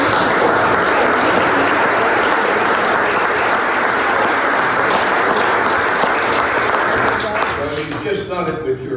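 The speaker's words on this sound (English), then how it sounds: "Just done it with your applause" An audience at a heritage presentation about a manor house applauds loudly and steadily for several seconds, the dense clapping thinning slightly as it fades out at the end.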